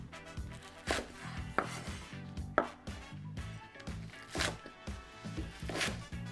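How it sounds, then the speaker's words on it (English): A knife slices green onions lengthwise on a cutting board, giving about eight sharp, close chopping taps at an irregular rhythm over quiet kitchen background. "now I'm going to slice each one of my green onions in half"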